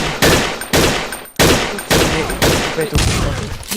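Rapid repeated gunfire in the video game Blockade 3D, a run of loud, close bursts firing in quick succession, each shot sharp and punchy with short gaps between.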